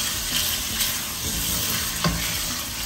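Small chicken pieces browning in a pan for Singapore rice gravy, a loud continuous close sizzle with occasional stirring scrapes and spatters, no voices.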